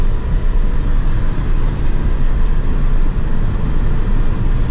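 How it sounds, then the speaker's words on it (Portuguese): A 2019 Volkswagen Polo 200 TSI pulls hard during an overtaking run on the road, a loud, steady broadband engine and road roar heard from inside the cabin with no talking. "Mostra como é rápido a resposta do motor."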